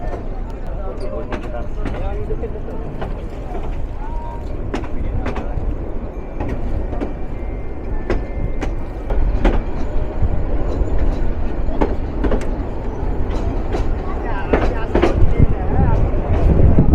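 The Mohua Commuter passenger train runs on rails from Netrokona, heard from the locomotive as a steady loud rumble with repeated sharp clicks and clacks of wheels over rail joints throughout.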